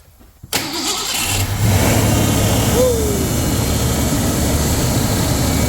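A 1973 Dodge Adventurer pickup engine cranks and catches, then settles into a loud, steady close-up run with a brief rising rev partway through.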